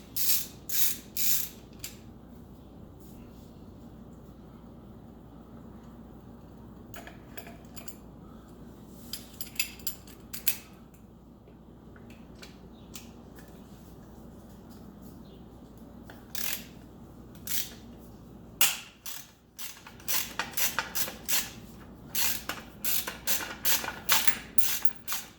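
Sprocket bolts being removed from a BMW S1000RR motorcycle during a chain kit install, a quiet workshop scene of intermittent ratcheting clicks and creaking tool bursts separated by near silence.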